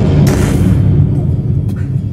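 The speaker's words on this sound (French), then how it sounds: "Une explosion énorme." A huge explosion sound effect in a tabletop role-playing game booms loudly right from the start, then a deep rumble slowly fades away.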